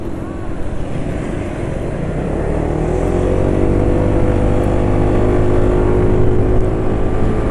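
A motorcycle engine runs loud and steady at high speed, a continuous droning roar with heavy wind rush across the microphone throughout.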